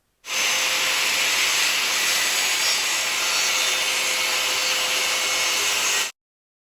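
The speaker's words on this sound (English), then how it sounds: "Reclamp subsequently and replicate the process on the half cut plywood hardboard." A circular saw cuts through half-cut plywood hardboard. It starts abruptly and runs as one loud, steady high whine with a hissing blade for about six seconds, then stops sharply. There are no voices.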